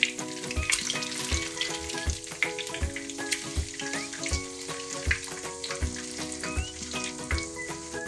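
Food fries in a pan on medium heat, a steady crackling sizzle punctuated by sharp taps and scrapes as pieces are turned, close and moderately quiet, no voices.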